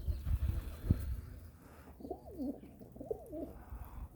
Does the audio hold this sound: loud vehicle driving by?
no